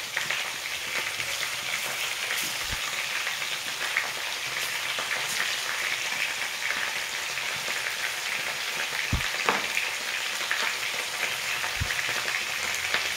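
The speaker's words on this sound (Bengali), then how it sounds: "তেলটা গরম হলে আমি এখানে ডালটা মেখে রেখেছি, ছোটো ছোটো করে বড়া" Small lentil fritters (bora) fry in hot oil with a constant soft hiss and fine crackle, dotted by a few sharp pops and light knocks, close by with no talking.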